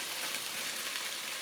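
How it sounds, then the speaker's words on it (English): Sausages browning in a frying pan give a steady broadband sizzle at moderate level with no talk. "So once the sausages are browned, don't forget you can do this in a frying pan as well."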